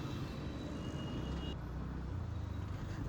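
Road traffic at a congested Thane junction rumbles steadily, with low engine drone from passing vehicles and a constant wash of street noise.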